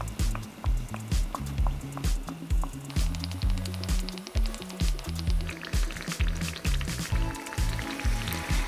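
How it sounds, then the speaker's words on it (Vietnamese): Banana fritters in batter deep-fry in hot oil over high heat, giving a continuous bright crackling sizzle with scattered pops, heard over a steady, repeating low beat of background music. "Bánh chuối thì mình chiên lửa hơi lớn để bánh được phồng lên và không bị rút dầu"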